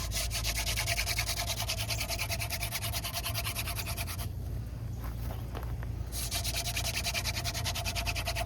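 A friction-fire hand drill spins on a tulip poplar board, giving a steady scratchy rubbing that runs continuously, pauses briefly midway, then resumes, close and fairly loud with no talking.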